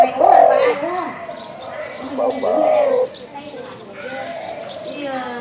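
Soft, low cooing calls from a dove or pigeon repeat in short phrases, close and fairly clear, with a few lighter chirps mixed in.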